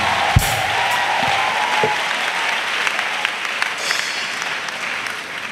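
A congregation applauds and claps for Jesus at a missionary send-off service, a steady dense wash of clapping that holds for several seconds with a few sharper individual claps standing out near the start.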